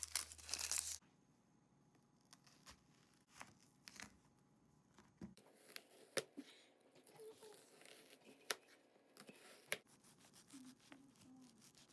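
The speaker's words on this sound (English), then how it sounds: "And you peel and dice 2 onions." Two onions being peeled for a home-style baked ham dish, heard as close, quiet tearing and crinkling of papery skins in irregular bursts, with no talk.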